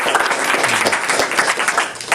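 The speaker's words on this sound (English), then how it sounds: "A big round of applause to Mathaji" An audience at a Srimad Bhagavatam session in a cultural center gives a big round of applause: dense, continuous clapping from many hands, close and steady, with no talking.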